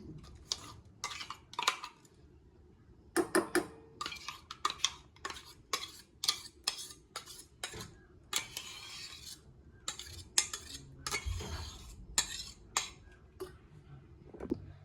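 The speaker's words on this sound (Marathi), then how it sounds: "मिक्सरच्या भांड्यामधनं मी हे सगळं काढून घेतलेलं आहे।" Repeated scraping and tapping of a spoon against a mixer jar and bowl, irregular strokes close by as ground potato pancake batter is scraped out, with brief quiet gaps between.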